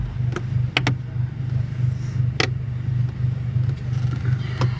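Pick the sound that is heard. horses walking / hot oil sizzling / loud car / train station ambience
loud car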